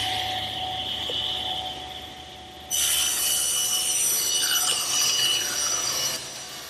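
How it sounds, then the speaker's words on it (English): A table saw rips a board of wood lengthwise, the motor hum giving way at once to a loud, steady cutting whine as the blade bites, sustained close by for several seconds with no talk. "now I'm going to rip it on the table saw"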